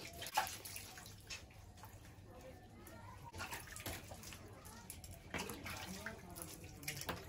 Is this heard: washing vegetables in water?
yes